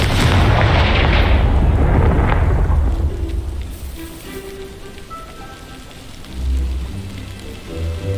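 A Confringo blasting curse explodes in Hogwarts Legacy, a loud, broad rumbling blast that rolls and fades over several seconds, then a smaller thump near the end.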